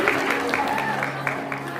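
An audience claps steadily through a staged Hindi play about Sita's fire ordeal at a Mahavir Jayanti celebration, a dense, even wash of applause with a low steady hum beneath it.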